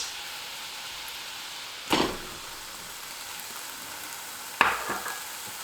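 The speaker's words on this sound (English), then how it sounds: "I'm just gonna put a little water in here. It's gonna sizzle." Water splashed into a hot pan sets off two sharp sizzling bursts over a steady frying hiss, just before tofu goes in; no one speaks.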